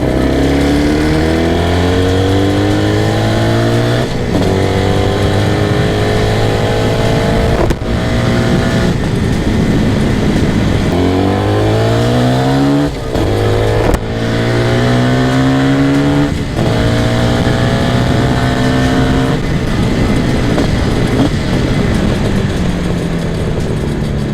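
An IZh Jupiter 400cc motorcycle fitted with two carburetors runs continuously while riding, its engine note loud and close, rising and falling through repeated gear changes and accelerations with no talk.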